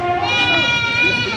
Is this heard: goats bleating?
yes